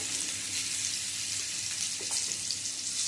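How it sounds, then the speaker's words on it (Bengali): Potatoes fry in oil seasoned with turmeric and salt, a steady broadband sizzle holding at an even level throughout, with a couple of faint soft knocks near the end. "হলুদ গুঁড়ো আর লবণ দিয়ে আলুটা ভেজে নেব।"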